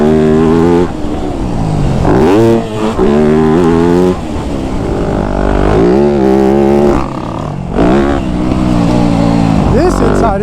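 A 2025 Yamaha YZ250F dirt bike riding a motocross track, its engine loud and close throughout, revving up and dropping through gears in repeated surges, with a rider's voice talking over it.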